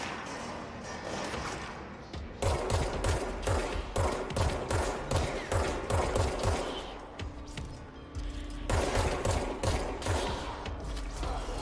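Rapid automatic gunfire from a video game, loud sustained bursts with a thumping low rhythm, pausing briefly before resuming.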